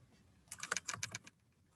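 Typing on a computer keyboard while filling out an online car seat check form, a quick burst of about a dozen crisp key clicks over roughly three-quarters of a second, close and fairly quiet, with no talking.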